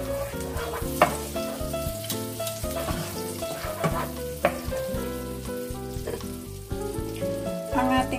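Onion sautéing in butter in a pan, a steady close sizzle with occasional spatula clicks, while a low hum and tonal background sound runs underneath.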